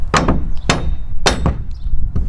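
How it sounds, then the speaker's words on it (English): A mallet taps a bolt into place while fitting a truck bed kayak rack, giving four sharp, loud metallic knocks at irregular intervals, close by with no talk. "this is not the sledgehammer, but it's the mallet"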